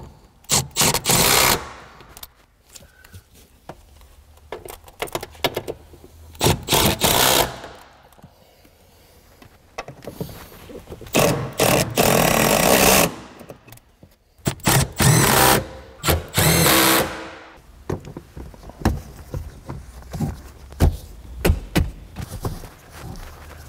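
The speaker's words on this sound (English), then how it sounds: "Now that they're threaded in, I'm gonna run them down." Power tool driving strut bolts on a 2004-2008 Acura TL rear strut, in several loud bursts of whirring and rattling separated by short pauses, close by with no talk.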